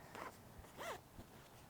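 A zipper on an expandable mummy sleeping bag is pulled in two quick, close strokes, each a short rasping zip, with quiet pauses between them.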